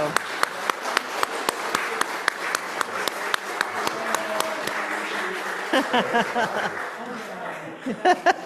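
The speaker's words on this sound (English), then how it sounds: "Once again, let's applaud, and you all may be seated." Church congregation applauding at a Membership Sunday service, sharp individual claps scattered over a broad wash of clapping that thins toward the end, with some chuckles and voices underneath.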